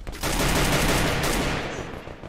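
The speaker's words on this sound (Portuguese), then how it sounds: "STS trocando tiro com o time da Nog" Dense, rapid gunfire crackles in a sustained burst as two teams exchange fire in a video game match, automatic weapons firing over each other without pause, then tapering slightly near the end.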